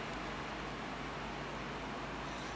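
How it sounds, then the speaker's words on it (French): An air conditioner in New Caledonia runs with a steady, broadband hiss and whoosh, a constant rushing drone with no voices. "C'est le bruit de la clim ça."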